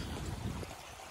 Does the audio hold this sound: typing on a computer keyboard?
no